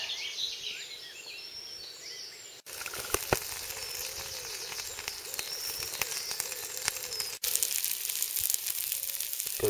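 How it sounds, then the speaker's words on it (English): Sausages frying in a pan at an early-morning fishing camp beside Wylands Old Speci lake, a steady soft sizzle with birds calling faintly in the background. "Got the old sausages on."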